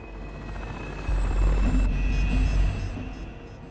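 A helicopter roars close by, its heavy rotor thumping swelling loud in the middle before easing off, with a steady high whine overhead.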